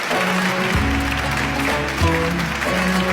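Studio audience applauding a young guest on a Persian-language talent show, steady dense clapping filling the whole moment with some voices mixed in.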